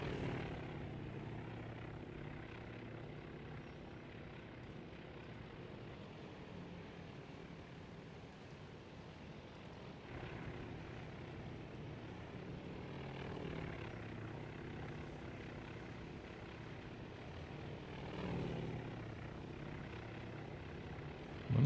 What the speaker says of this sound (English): It takes so long to land 133 aircraft.